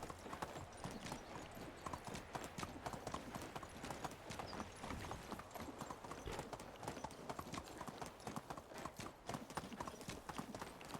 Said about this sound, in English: We are literally just riding through the village of Lesnica.